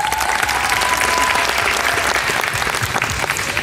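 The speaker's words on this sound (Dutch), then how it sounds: "Graag jullie applaus voor Jody de Rijke." Steady, loud applause from a beauty pageant audience at the Miss Wellness Beauty 2019 event, sustained dense clapping throughout with a brief tone in the background.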